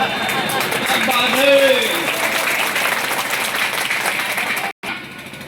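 An audience at a Hindi-language speech applauds steadily, a dense wash of clapping from many hands that holds for several seconds, with a voice rising briefly over it before a sudden cut.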